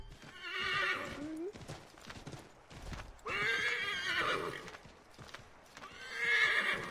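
A horse in Assassin's Creed III Remastered whinnies loudly three times between stretches of hoof clatter and game sounds, the neighs rising and falling in clear bursts.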